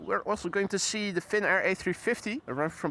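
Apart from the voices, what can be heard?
No everyday noise stands out behind the speech.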